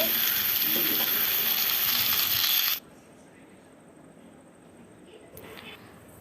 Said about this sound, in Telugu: వంకాయ ముక్కలు అలాగే చిలకడ దుంప ముక్కలు వేసేసుకుని వీటిని కూడా బాగా వేపేసుకుందాము